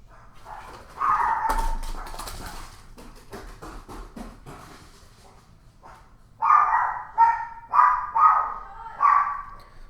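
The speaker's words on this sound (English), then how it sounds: "Sorry about that, my dog is barking." A dog barks in bursts, first one bout near the start, then a quick run of four or five loud barks close by toward the end, with quiet room noise between.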